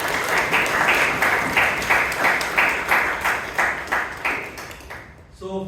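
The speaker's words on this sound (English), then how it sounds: "Let us give one more round of applause to" Steady applause from a Toastmasters club meeting audience, many hands clapping together at full volume before it quickly dies away at the end.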